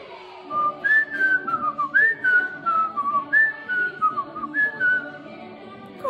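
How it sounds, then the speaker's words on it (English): Someone whistles a melodic tune close to the mic, a run of clear sliding notes with short pauses between phrases, with nothing else competing. "I think I'd do the whistling."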